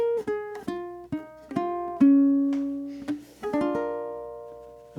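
A ukulele plays the last bar of a vibrato exercise: a handful of crisp plucked strums, each ringing out, then a final chord left to sustain and slowly fade, alone with no voice.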